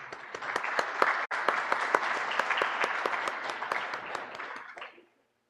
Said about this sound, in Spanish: Muchas felicitaciones. Nuevamente los aplausos,